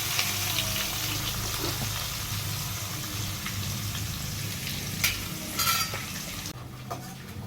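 Ginger paste, green chillies and onion sputter in hot tempering oil, giving a steady close sizzle with occasional spoon clinks and a brief scrape before it quiets near the end.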